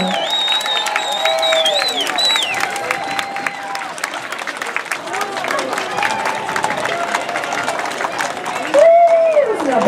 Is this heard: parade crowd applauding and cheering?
yes